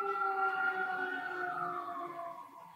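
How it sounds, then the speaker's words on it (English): A wailing siren sweeps outside, its pitch sliding steadily downward as it passes and gradually fades, heard alone and moderately faint. "There's still sirens."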